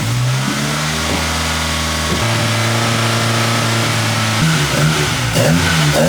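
Toyota AE86 Trueno engine on a dyno pull, revving loudly and steadily climbing in pitch, with a sudden drop and rise partway through as the engine breaks up, then rising again toward the end.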